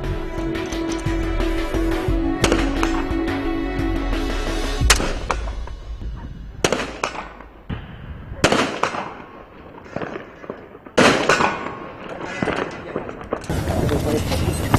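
Gunfire during a special forces shooting test, with loud close shots at irregular intervals, some in quick clusters, separated by quieter stretches with a steady underlying tone.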